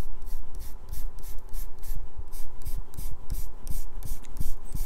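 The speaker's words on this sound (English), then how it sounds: "I'm going to lightly erase the rest of these lines." An eraser rubs out pencil lines on inked comic art paper, making a rapid rhythmic scrubbing of quick back-and-forth strokes, close and fairly loud, with no talking.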